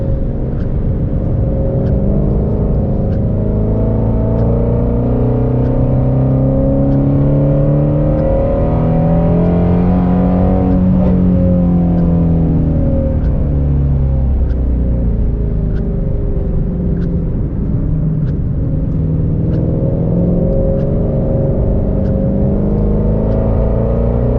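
A 2020 Ford Mustang Shelby GT350R cruises on a wet track at moderate speed, its engine note a steady continuous rumble with gentle rises and falls in pitch, up close and with no talking.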